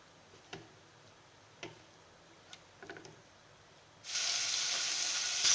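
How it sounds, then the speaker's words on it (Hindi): Chicken pieces hit hot oil in a pan for white sauce pasta. A few faint ticks and taps come first, then a steady, close sizzle rises and fills the last second and a half. "अब मैं ऑयल में ये चिकन शामिल करूँगी और इसको 2 से 3 मिनट फ्राई कर लेंगे"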